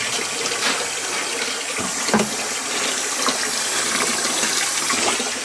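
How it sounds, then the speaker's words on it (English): Tap water runs steadily into a clogged laundry sink, a loud continuous splashing hiss that holds without a break, with a couple of faint knocks partway through. "As you can see, the water is running. It's not going down."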